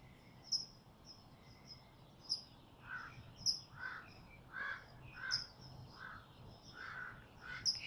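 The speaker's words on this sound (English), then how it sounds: "I hear birds, different types of birds chirping away." Birds call outdoors, several faint, distant caws repeating at a steady rhythm alongside higher chirps and a soft insect hum, with no voices.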